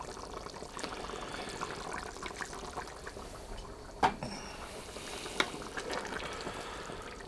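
A wooden spoon stirs venison goulash in a cast-iron Dutch oven, a soft, steady scraping and sloshing of thick stew punctuated by two sharp clinks against the pot, close and alone without talk.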